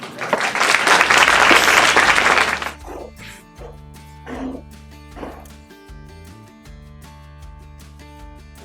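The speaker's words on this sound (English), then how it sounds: "Please give her a huge round of applause." Loud burst of crowd applause at a stand-up comedy talent show in Lucknow for about three seconds, then fading out into quieter background noise with a few faint knocks.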